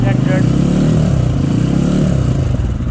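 A self-start motorcycle engine being revved while it charges a lithium battery, giving a loud, steady, close engine drone that holds throughout with slight pitch rises, and someone talks over it.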